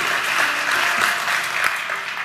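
Church congregation applauding during a sermon, a dense steady wash of clapping hands filling the room with no voices over it.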